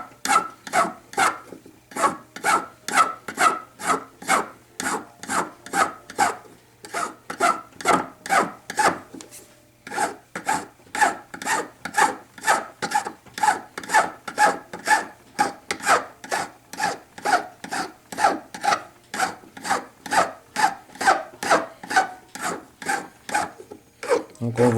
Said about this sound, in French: le geste de la lime est pratiquement toujours le même